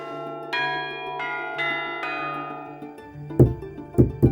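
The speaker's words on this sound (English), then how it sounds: "bells forged at the world's oldest foundry in Italy" Bronze bells cast at the world's oldest bell foundry in Italy ring out in several separate clear strikes with long shimmering decays, followed by heavier, louder clangs near the end, with no talk.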